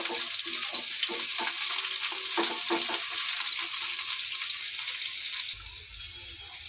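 Chopped onion frying in oil over cumin seeds in a frying pan, a steady loud sizzle with a few stirring scrapes that continues almost unbroken before easing slightly near the end.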